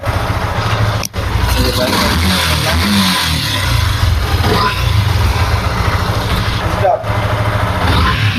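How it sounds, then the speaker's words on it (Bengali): A Yamaha FZS V2 motorcycle engine has just started and is idling with a steady, close, low throb, while someone talks over it. "বাইকটা স্টার্ট হয়ে গেছে"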